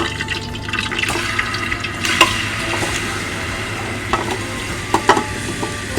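Marinated beef tipped into hot olive oil in a pressure cooker for biryani, giving a steady sizzle and frying hiss with occasional clanks and scrapes from stirring.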